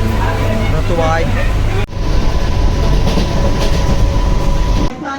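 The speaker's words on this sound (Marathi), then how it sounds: "मित्रांनो आता आम्ही ट्रेन पकडली आहे विरारवरून" A moving local train from Virar, Mumbai, rumbles loudly from inside the carriage, with steady rattling and clatter and a sharp jolt partway through. People talk over the noise.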